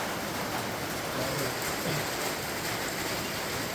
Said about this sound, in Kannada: ಹೋಗೋಣ ಅಂದರೆ ಈ ಮಳೆ ಚೆನ್ನಾಗಿ ಬಂದ್ಬಿಡ್ತಲ್ಲ